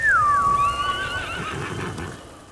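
A horse in the samurai action game Ghost of Tsushima gives a loud, close whinny that falls in pitch and then trails off over about two seconds, with faint hoof clatter underneath.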